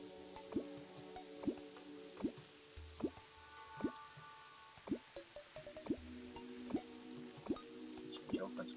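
Water drips and plops in Terraria, a steady run of small distinct drops and splashes at an even pace, close and fairly quiet, with a low rumble in the middle.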